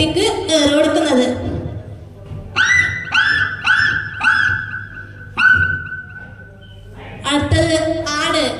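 A person at a special school Christmas celebration mimics a dog yelping after being hit, giving a run of sharp, clipped yelps and a longer whimpering cry, with talk just before and after.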